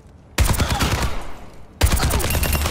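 Automatic weapon fire in Overwatch 2 shoots at training bots, with two dense bursts of rapid shots, loud and close, separated by a short pause.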